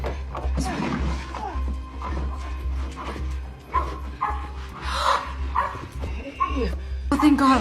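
A dog barks and whimpers in bursts amid debris during a wildfire, close and fairly loud under anxious talk, with a steady low hum running throughout.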